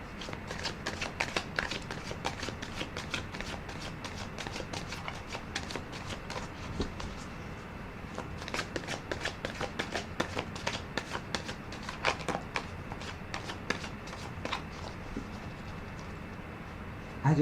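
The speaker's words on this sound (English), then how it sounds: "I'm going to put another rifle and another shuffle on the deck" A tarot card deck riffled and shuffled by hand, a dense run of quick papery flicks and snaps, close and steady throughout with brief sharper riffle bursts; no talking.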